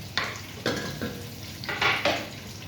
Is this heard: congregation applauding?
no